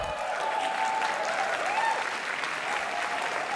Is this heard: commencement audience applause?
yes